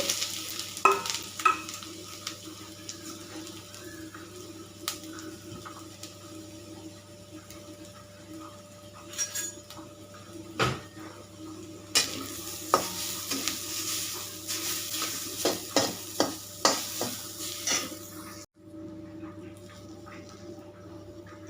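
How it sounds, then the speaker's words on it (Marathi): Grated coconut roasting in a spoonful of ghee, stirred in a pan with a low hiss and repeated scraping taps that come faster and louder toward the end, then stop abruptly. "हे खोबरं जरा भाजून घेत आहे एक चमचा तूप घालायचं आहे"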